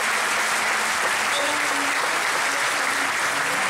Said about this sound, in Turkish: onlar için kocaman bir alkış istiyorum